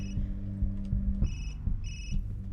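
A cell phone rings in the video game Observer, with a repeating electronic tone pulsing about three times in a steady rhythm over a low ambient hum.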